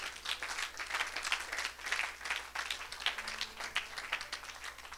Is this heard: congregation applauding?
yes